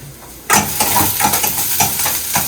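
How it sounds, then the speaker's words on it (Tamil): Vegetables sauté in a pan for a soup, starting abruptly as they hit the hot surface: a steady sizzle with repeated stirring scrapes and light clinks, close and fairly loud, no voices. "இது கொஞ்சம் வதங்கட்டும்"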